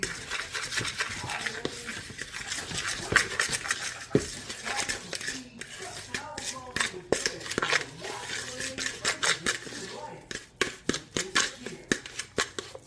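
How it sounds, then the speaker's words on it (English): A spoon stirs eggplant casserole ingredients in a bowl, with dense scraping and clattering near at hand that turns into quicker, sharper taps toward the end. Faint speech comes and goes underneath. "Let me just mix it all up and see how everything goes."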